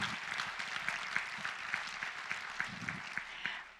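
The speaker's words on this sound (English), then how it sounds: "You can clap." Audience applause at a public address, dense steady clapping with a few sharper claps standing out, moderately loud and sustained throughout with no talk over it.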